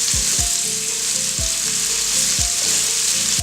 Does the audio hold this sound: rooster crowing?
no